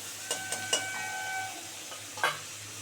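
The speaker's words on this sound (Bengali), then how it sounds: "এবার চিংড়ি মাছটা দিয়ে একটু ভালো করে ভেজে নেব" Prawns fry in a pan with a steady soft sizzle, punctuated by several quick clinks and scrapes of a utensil stirring them, with no talk.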